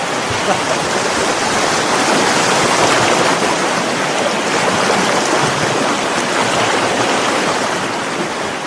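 Clear mountain stream rushing steadily, a dense continuous wash of flowing water that stays loud and unchanging throughout with no voices over it.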